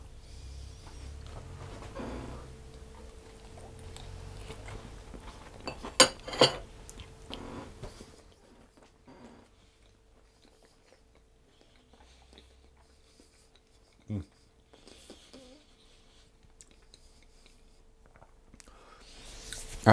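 Cutlery tapping and scraping on a plate while eating a slice of gluten-free pear and almond tart, a few sharp clinks early and sparse faint touches later in a quiet room.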